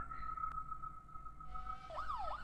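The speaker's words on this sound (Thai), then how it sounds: "เสียงไซเรนมาแล้ว" A police siren arrives in the horror video game Fears to Fathom: Home Alone. A steady electronic tone gives way to rising and falling wails near the end. It is faint and heard alone.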